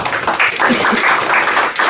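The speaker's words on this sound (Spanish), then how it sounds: "Démosle un fuerte aplauso al Señor." A church congregation at a Bible study applauds, a brief spell of close, lively clapping with voices mixed in underneath.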